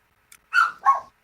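A dog gives two short barks in quick succession, close to the microphone and fairly loud, with a faint click just before them and quiet between the barks.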